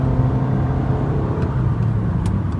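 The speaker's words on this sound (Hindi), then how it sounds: "अगर मैं इस गाड़ी को स्पोर्ट्स मोड में डालने वाला हूँ" A Honda City petrol car engine in sports mode hums and rumbles steadily from inside the cabin, a low continuous drone with a slight rise in pitch and no talking.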